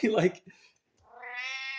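A hungry house cat gives a long, rising meow, preceded by a brief burst of nearby human voice and a short pause.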